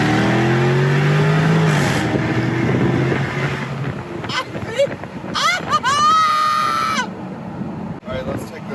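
A 2024 Jaguar F-Type R75 coupe with its front-mounted engine and all-wheel drive pulls through a corner, the engine note climbing in pitch through quick revs under gusty wind noise.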